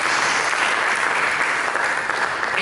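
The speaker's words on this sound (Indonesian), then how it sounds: "Berikan tepuk tangan bagi Yesus Kristus." Church congregation applauding at a Christmas service, a dense, steady wash of clapping from many hands sustained without pause.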